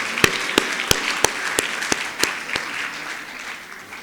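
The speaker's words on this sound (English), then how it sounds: "Let's give him a warm round of an applause" Audience applause at a university tribute for Professor Tshilidzi Marwala: a few loud, evenly spaced claps stand out over a softer bed of scattered clapping that slowly fades.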